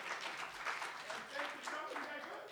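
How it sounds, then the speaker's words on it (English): Audience applause at a live magic show in Atlanta, a steady wash of clapping from the crowd lasting the whole moment, with some talk mixed in. "they will welcome you with a big round of applause"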